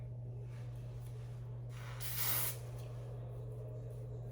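A single short burst of hair holding spray hisses over a low steady hum, lasting about half a second.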